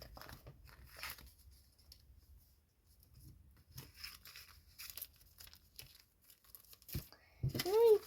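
Crinkling and tearing of a white paper bag, with soft scattered rustles building to a louder rip near the end, close by.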